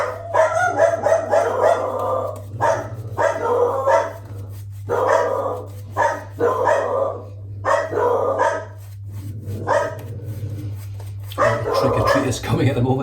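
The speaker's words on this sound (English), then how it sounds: "Trick-or-treaters coming at the moment, as you can hear the dogs are going nuts." Several household dogs barking frantically at trick-or-treaters on Halloween, loud bursts of repeated barks and yips close by, coming in clustered volleys with brief gaps between them.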